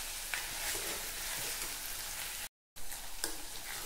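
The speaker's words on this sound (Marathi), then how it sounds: "तर मी यावर कोथिंबीर टाकून घेते, मिक्स करते।" Steady sizzling of a chilli vegetable dish frying in a pan as coriander is stirred in, with occasional scraping clinks from the spoon, close and continuous apart from a brief cut.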